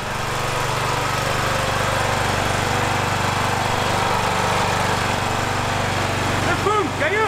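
A broken ride-on lawn mower's small engine runs loud and steady nearby with a constant droning rumble, and a voice speaks briefly near the end.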